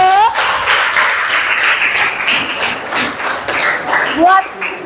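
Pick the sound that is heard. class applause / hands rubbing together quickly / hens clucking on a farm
class applause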